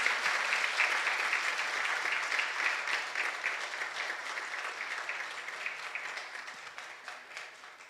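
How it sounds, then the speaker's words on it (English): Sustained applause from a crowd, steady clapping that gradually fades slightly over several seconds, with no talking. "Let us give a big round of applause"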